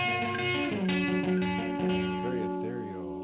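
Augmented chord played on an instrument through a Reville Q90 effect, a sustained, shimmering chord with modulated, echoing tails ringing out and slowly fading.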